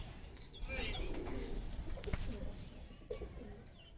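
Racing pigeons coo softly in a loft, low throaty calls mixed with faint chirps and light rustling, fairly quiet and close.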